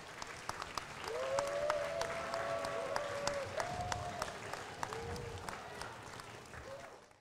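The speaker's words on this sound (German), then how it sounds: "Ein Applaus." An audience claps steadily at a children's robotics competition award moment, filling a hall. The applause stays fairly soft and even, with a few whistled or tonal cheers rising over it before it fades out.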